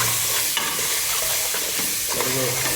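Ginger pieces stirred and frying in hot oil for a boti (tripe) curry, a steady close sizzle with scraping spoon strokes at irregular intervals, alone without talk.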